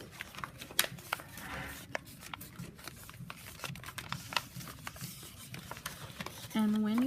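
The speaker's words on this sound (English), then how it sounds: "you can take your circle and fold it in half" A paper circle is folded in half, giving soft, close crinkles, creases and light taps in a quiet room, with a voice coming in at the very end.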